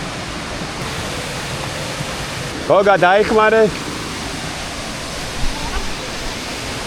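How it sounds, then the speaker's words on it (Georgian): The Oniore waterfall spills down a cliff in a constant, loud, broadband rush, and someone speaks briefly over it partway through. "ეს არის ონიორეს ჩანჩქერი, რომელიც გადმოედინება კლდიდან"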